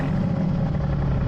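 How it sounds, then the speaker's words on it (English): A 503 hp rear-wheel-drive Aston Martin V8 with its exhaust valves open roars in track mode on winter roads, a loud, continuous, deep engine rumble heard alone. "Oh, you can't beat the sound of a V8. Just listen to it roar like a lion."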